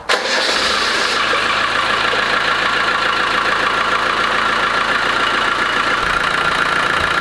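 A car engine cranks and catches almost at once, then runs at a loud, steady idle close by, during a radiator flush.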